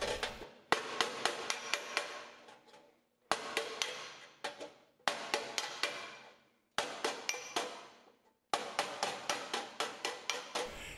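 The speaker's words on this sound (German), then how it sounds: "Hierbei treffen die Hammerschläge auf den Amboss. Man hört dies deutlich durch das klingende Geräusch." Hammer blows striking a sheet metal rim directly on a dolly, smoothing a lamp housing for a Ford car, give a bright ringing clang. Quick regular bursts of close metallic hits come with brief gaps between them.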